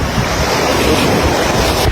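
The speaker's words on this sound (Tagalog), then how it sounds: "Andito na kami guys sa dagat." Sea waves break on a beach in a loud, continuous wash of surf, with heavy wind buffeting the microphone throughout and no talking.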